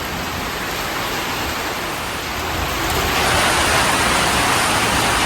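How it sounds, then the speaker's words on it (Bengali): Morning rain pours down outdoors in a steady, dense hiss that swells slightly louder partway through, with no voices. "সকাল সকাল হচ্ছে বৃষ্টি"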